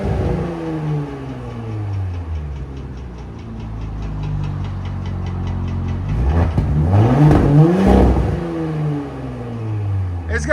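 A straight-piped 2023 Porsche Cayenne S with a 2.9L twin-turbo V6 idles, then revs in rising and falling sweeps with raspy, crackling bursts from the exhaust. The revs grow loud and close midway, and a voice talks over the engine.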